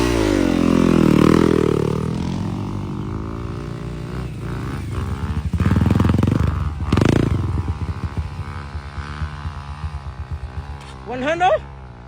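Honda CRF 230 enduro motorcycle climbing a steep uphill trail, engine revving hard and labouring with rising and falling pitch, close and loud, with people talking and shouting around it.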